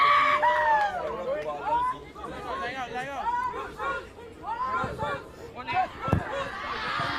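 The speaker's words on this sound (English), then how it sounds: "loads of cheering, Roots cheering on the sidelines here" Spectators on the sidelines of a rugby sevens match at a Caribbean carnival tournament in Saint Lucia shout and cheer with excited, rising calls, mixed with crowd chatter and nearby voices.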